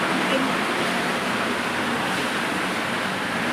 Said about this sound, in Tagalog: Panay pa ang ulan. Lakas pa ng ulan